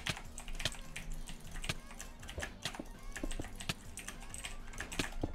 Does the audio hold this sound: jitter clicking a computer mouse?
yes